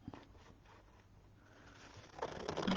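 Scissors roughly cut stamped paper pieces for a Stampin' Up! craft project, with soft, sparse snips at first that build into louder, denser rustling and cutting near the end.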